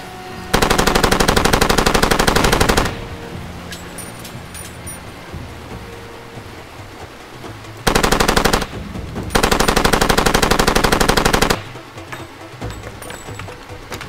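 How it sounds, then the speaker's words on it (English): Sustained automatic gunfire from a firefight in the video game Far Cry 2, loud, with two long bursts and a shorter one separated by quieter ambient game noise, and no talking. "Hit them from here with the gun."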